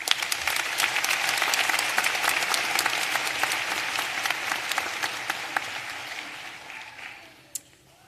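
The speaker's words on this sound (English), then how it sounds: "A round of applause, please." Sustained audience applause fills a graduation commencement hall, steady dense clapping that holds for several seconds before tapering off near the end.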